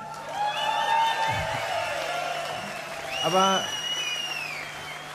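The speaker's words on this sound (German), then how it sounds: "wenn ihr so applaudiert, dann höre ich natürlich erstmal auf und genieße euren Beifall" Concert audience applauding at a live show, a steady wash of clapping and crowd noise with a whoop, while someone speaks briefly over it.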